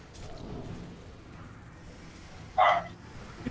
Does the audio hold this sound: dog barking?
yes